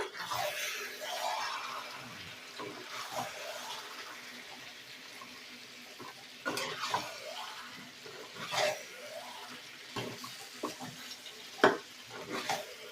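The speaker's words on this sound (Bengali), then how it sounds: "আবারও চিকেনটাকে ভালো করে আমি নেড়ে নেব।" Chicken fries in mustard oil in a pan, a quiet background sizzle with several soft swishing stirs and scrapes spread across the stretch.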